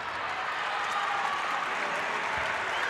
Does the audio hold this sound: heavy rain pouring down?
no